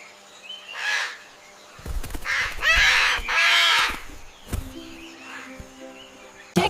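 A parrot gives a few harsh, raspy squawks, loud and close, in bursts separated by short pauses with no talking.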